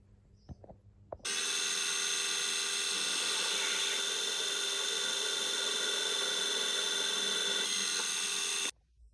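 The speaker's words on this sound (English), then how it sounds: "Next step is to drill a hole." Drilling a hole for a pin in a front suspension part for an Austin 7 special, a steady whirring drill running continuously for about seven seconds after a brief knock, close and loud.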